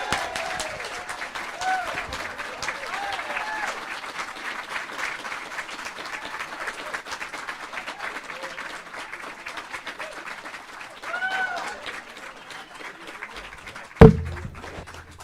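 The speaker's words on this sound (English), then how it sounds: "Can you guys give them a loud round of applause and welcome them" Sustained applause and crowd noise from an audience at Turning Point USA headquarters welcoming guests, steady for about fourteen seconds before a sharp thump near the end.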